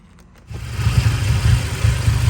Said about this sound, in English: you can see the engine idle very bad, very poorly shaky due to the bad mass airflow sensor